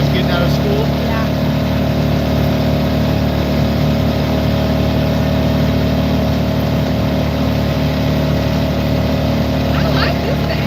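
A noisy car engine idles in a steady, loud drone with a strong low hum throughout, and people talk over it.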